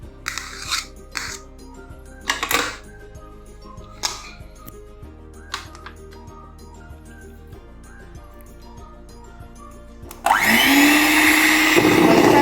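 A kitchen blender starts up and runs loud and steady near the end, mixing mango ice cream with butterscotch, after several seconds of quiet clinks and handling noises.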